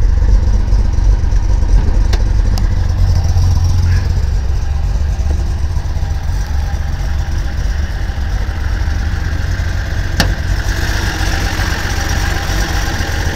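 A 1977 Datsun 280Z idling rough after sitting for two years, a steady low engine rumble running the whole time with a couple of sharp clicks.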